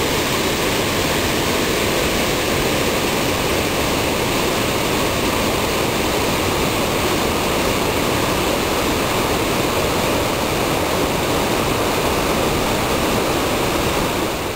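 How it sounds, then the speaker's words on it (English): River rapids just north of the falls in Banff National Park, a continuous, loud, broadband roar of rushing whitewater that stays dense and unbroken throughout, with no voices. "Just north of the falls were these rapids, enough to make any kayaker think twice."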